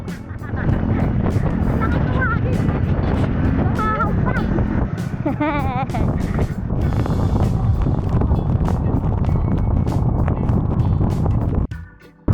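Continuous roar of strong wind buffeting the microphone with heavy rushing water from big waves beneath, brief voices breaking through now and then.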